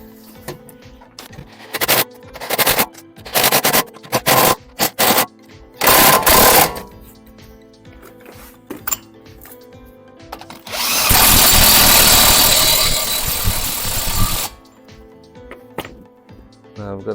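An impact gun hammers off nuts during clutch work on a Kia Sportage, firing in several short rattling bursts and then one long sustained burst, loud and close, with quiet gaps between.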